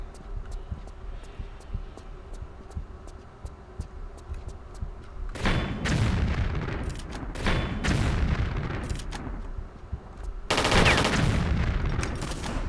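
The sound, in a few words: turret being blown up in Tomb Raider 3 video game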